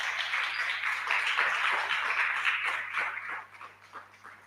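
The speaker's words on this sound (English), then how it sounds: "Let's clap for Sylvia." An audience at an innovation pitch competition applauding a presenter as she leaves the stage, dense clapping that swells and then thins out into a few scattered claps, with no talking.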